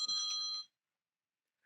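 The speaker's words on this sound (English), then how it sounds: "That's like the ringtone from Sesame Street." A phone ringtone resembling the Sesame Street theme sounds as a bright, clear tone for about half a second. It cuts off into silence.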